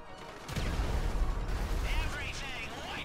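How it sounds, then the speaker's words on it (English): A grenade goes off in Grand Theft Auto 5 with a sudden deep boom that rolls into a sustained rumble, while someone talks over it. "I'm just gonna drop a grenade right there and leg it."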